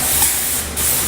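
A heavy coat of white lacquer goes on in a steady, close, hissing spray lasting about a second, with a brief dip in the middle.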